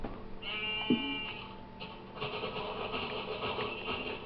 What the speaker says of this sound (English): Oh, there's sheep over here too, sweet.